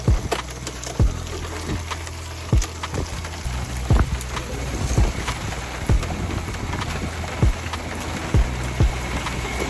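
Rain falling outdoors during an exterior cleaning job: a dense, steady wash of drops with frequent louder taps and knocks, close and fairly loud, heard alone.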